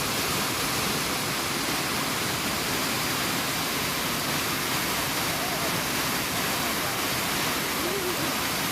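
A waterfall on a salmon migration river roars steadily and densely throughout, a constant broadband rush of falling water with no pauses or voices.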